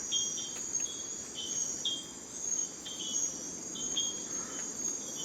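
Short, high-pitched tonal calls of a tiny frog repeat every second or so, like tiny clinking pips, above a steady rushing wash of distant ocean surf on Costa Rica's Osa Peninsula.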